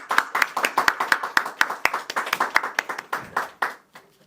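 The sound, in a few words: church congregation clapping to welcome a family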